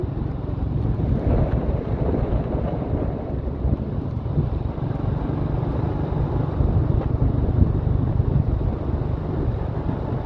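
Strong wind buffets the microphone at a mountain viewpoint above a sea of clouds at Cao Phạ, a steady, loud, roaring rush that lasts throughout with no voices.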